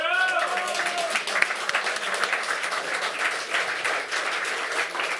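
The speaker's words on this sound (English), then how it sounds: "Round of applause to Pedro." A crowd at an esports LAN grand final, Elysium against Invictus, claps in a full, steady round of applause, with a voice briefly audible at the start.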